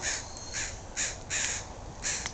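Several crows cawing in a wild forage area, five or six harsh calls in an irregular rhythm, fairly close and clear over quiet outdoor background.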